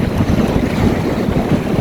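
Strong stern wind roars across the microphone while sailing a sailboat through waves, a loud, continuous buffeting rush with water wash beneath and no talking.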